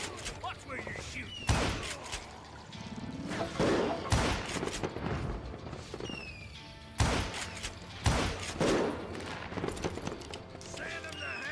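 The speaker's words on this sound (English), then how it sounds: "Watch where you're shooting." Gunshots in the Western shooter game Call of Juarez: Gunslinger: sharp, loud bangs in several bursts, some in quick succession, with horse hooves, thuds and voices mixed in.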